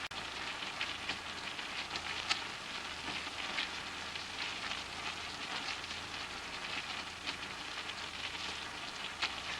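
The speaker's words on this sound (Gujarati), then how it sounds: "આખું જીરું અને રાઈ એક એક ચમચી આપણે નાખી દઈશું એને ચટકવા દેવાનું" Cumin and mustard seeds crackle in hot oil with sliced green chillies as a tempering for khaman. A soft, steady sizzle carries scattered small pops, heard faintly and without talk.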